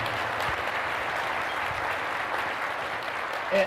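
Sustained audience applause at a county State of the County address, steady and dense throughout with a brief louder swell near the end.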